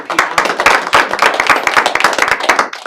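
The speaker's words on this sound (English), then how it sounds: "let's give a round of applause for AAPI" A round of applause from an audience at a workplace diversity day event, with brisk, close hand claps crackling in a dense, uneven rhythm for the whole stretch.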